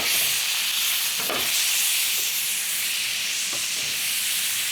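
T-bone steak searing in hot oil in a pan after being flipped, a continuous close sizzle and hiss with a few faint knocks.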